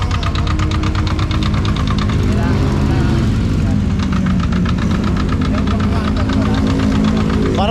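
A 1979 motorcycle engine on a night ride rumbles deep and loud like a bulldozer, a steady heavy pulsing throb with a rattling knock that runs continuously throughout.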